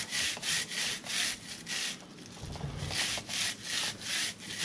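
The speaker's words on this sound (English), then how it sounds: "Give it a scrub." A brush scrubs the chain of a Harley-Davidson Pan America motorcycle in steady back-and-forth strokes, a close, rhythmic raspy rubbing with a brief pause midway, no talking.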